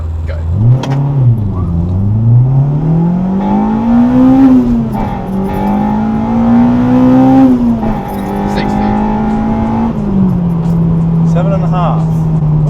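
A Honda Civic Type R EP3 with a Quaife LSD gearbox launching hard from standstill, its engine revving loud and close as it climbs through rising pitch sweeps with brief drops at gear changes, a voice speaking at the start.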